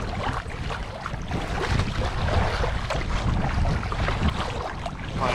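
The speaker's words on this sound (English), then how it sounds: "You probably can't hear me because it's so flipping windy" Strong wind roars constantly against the microphone, a dense, blustery rumble with steady buffeting and no pauses.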